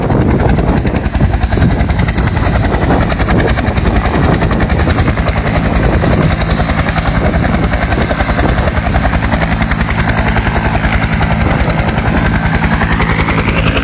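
A police helicopter arrives during a detention operation in Tamaulipas, Mexico, its loud, rapid rotor chop pounding continuously up close with a rising turbine whine toward the end.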